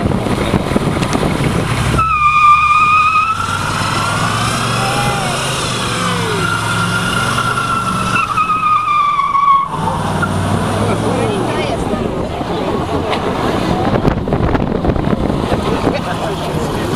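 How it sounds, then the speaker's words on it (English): Highly modified Vauxhall 10 racing at the Saltburn hillclimb, engine note revving up and down loudly as it passes, with wind buffeting and a commentator talking over it. "Next up is Chris Hunwick of Gisborough in his Vauxhall 10."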